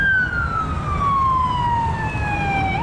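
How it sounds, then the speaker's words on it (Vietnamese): A police armored vehicle siren wails loud and close, one steady tone sliding slowly downward over a constant engine rumble, with no talk. "Xe cảnh sát bọc thép."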